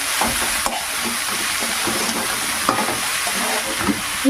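Salted chickpea greens sizzle gently in a pan while a spatula scrapes and turns them, a close, even frying hiss with occasional soft knocks and no talk.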